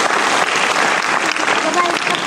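An audience at a Cancer Survivors Day event at a Jaipur hospital gives loud, dense, continuous applause for cancer survivors, with a steady wash of crowd noise.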